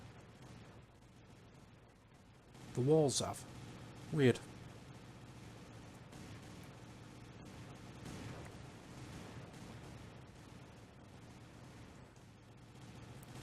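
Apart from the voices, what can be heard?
dynamite explosions in video game Total Miner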